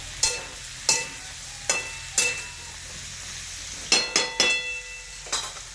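Eggplant and potato pieces sautéing in a pan for a village-style curry, with a steady low sizzle broken by about eight sharp scraping stirs of a spoon against the pan, close and without any talking.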